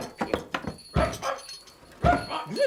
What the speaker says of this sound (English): It's Bumpy Dog. What a noise he makes.